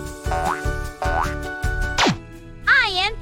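Cartoon bouncy-ball boings in a children's 3D animation: three springy rising boings in a steady rhythm, then a falling zip and a wobbly warbling bounce, bright and close with playful backing music.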